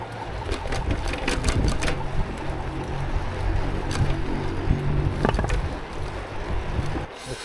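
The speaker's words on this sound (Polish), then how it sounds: "hamulce tylko szorują o tarczę" Bicycle brakes scraping against the brake disc while riding on a commute, a close, continuous rough grinding and rattling that rises and falls with the motion, with no voices.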